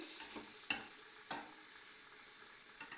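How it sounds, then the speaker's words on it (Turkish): Chickpea manti soup being stirred in a pot, just out of the freezer and cold: a few soft scraping, clinking stirs with light sizzling in the background, close and quiet, with no talking. "Şöyle bir karıştırıyorum bunları."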